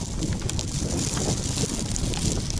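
Steady wind roaring across open icy ground during freezing rain in Canada, a constant broadband rush with low rumble, no voices.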